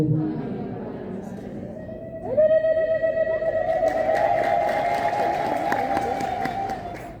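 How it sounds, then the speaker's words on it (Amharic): A church congregation bursts into loud, sustained ululation, many high trilling voices rising together over a crowd murmur and continuing for several seconds. "እልልታው በአንዳንድ በኩል ምናልባትም በየጊዜው እልል ማለት ትክክል ላይሆን ይችላል"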